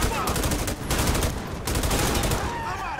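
Gunfire in the game GTA 5 during a prison escape, loud rapid bursts of automatic shots in several volleys with short gaps between them.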